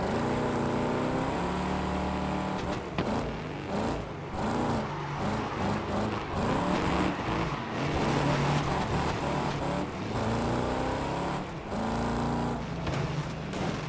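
A race car in a racing video game runs at full throttle, a continuous loud engine drone rising and falling in pitch through gear shifts, close and without talk.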